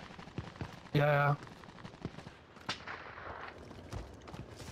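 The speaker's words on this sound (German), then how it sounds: "die kriegen Schüsse von hier" Sharp gunshots crackle intermittently amid Call of Duty: Warzone game sounds, with a loud tonal burst near the start and voices talking over the action.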